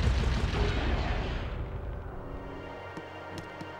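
Fireworks exploding in the video game Sly Cooper and the Thievius Raccoonus: a dense roll of loud, booming blasts that gradually thins into sparser, fainter pops and crackles.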